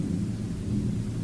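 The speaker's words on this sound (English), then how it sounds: "Thunder." Thunder rolls as a low, continuous rumble over a short stretch, steady and fairly loud, with no talking.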